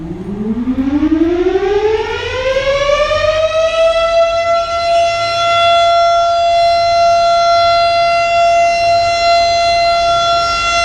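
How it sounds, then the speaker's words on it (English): A civil defense siren in León, Nicaragua, mounted on a building near the central park, winds up from a low growl to a loud, steady high wail and holds the tone, with no talking. "every day at 7 a.m. and 12 p.m. there's a siren that goes off"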